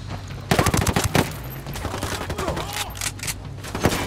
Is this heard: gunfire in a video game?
yes